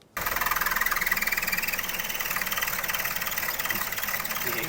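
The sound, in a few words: 2011 Mazda2 idling with noise from collapsed engine mount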